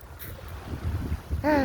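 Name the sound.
crashing ocean waves on the shore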